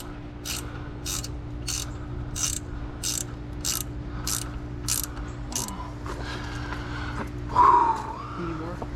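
A ratchet clicks in a quick even series as nuts are tightened on a Yamaha F350 outboard lower unit, close and crisp, followed by a few looser metallic handling sounds and a brief voice.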